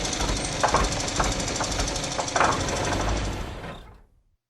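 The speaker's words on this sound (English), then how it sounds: "The engine started to splutter and cough like an old man" A plane engine chugs and rattles unevenly, spluttering and coughing with rough knocking pulses before quickly dying away into silence.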